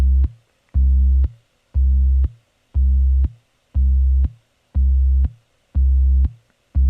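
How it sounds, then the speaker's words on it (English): A deep, droning bass note pulses in even, repeating bursts with short gaps between, thick and heavily processed, loud and alone. "this is what the bass sounds like with my guitar rig effect on it and a few little processing effects."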